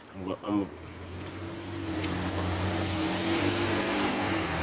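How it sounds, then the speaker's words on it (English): Cars drive past in a steady stream, their engines building into a continuous rising hum after a brief voice at the start. "They have a lot of cars driving past."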